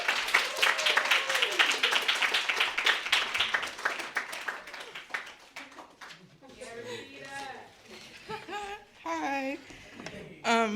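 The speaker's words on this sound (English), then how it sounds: "So if everybody would please clap so loud for Rashida." Audience at a literary reading event clapping for a reader named Rashida, a burst of many hands for several seconds that thins out and fades as a person begins speaking.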